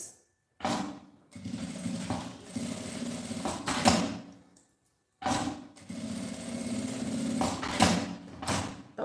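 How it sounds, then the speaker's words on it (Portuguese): A sewing machine runs two close, steady stitching passes separated by a short pause, each with a whirring motor hum and rhythmic needle chatter, backstitching at both ends of a seam while making a small handbag. "passo uma costura com retrocesso nas duas pontinhas"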